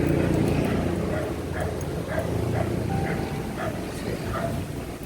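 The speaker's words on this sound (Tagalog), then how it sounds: "Sana hindi tayo sundan ng aso." Repeated barking from a dog in an abandoned market bazaar, a series of evenly spaced barks somewhat distant, set against a steady low rumble of surrounding noise.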